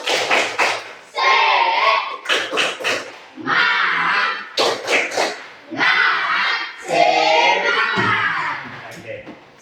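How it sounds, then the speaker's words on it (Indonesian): A classroom of students does a spirit clap, clapping in a rhythmic pattern of quick bursts and pauses, mixed with loud shouted chanting from many voices, close and energetic. "biar lebih semangat, tepuk semangat."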